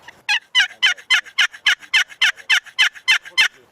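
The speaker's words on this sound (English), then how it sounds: "But listen to the sound when you go to this Razor's Edge or this aluminum side" Turkey yelps come from the aluminum Razor's Edge side of a Knight and Hale box call, a long string of about thirteen raspy, evenly spaced notes, loud and close.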